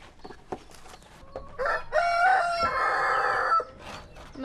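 A rooster crows loudly and close among clucking chickens, with a long drawn-out crow in the middle and scattered short clucks before and after.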